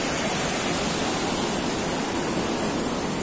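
A river beside a villa at Sanghyang Panjalu, Ciamis, rushes in a dense, steady roar of flowing water, loud and unbroken throughout with no voices.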